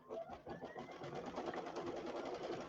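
A Brother Luminaire sewing machine stitches a decorative flower border, giving a quick, even run of mechanical needle pulses. The stitching is fairly soft and carries on steadily, with no voices.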